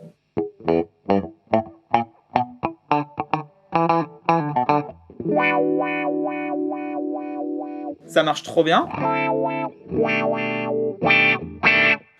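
Guitar run through a compressor pedal on a pedalboard, with short plucked notes giving way to sustained chords, heavily processed and up close, while someone speaks French over part of it.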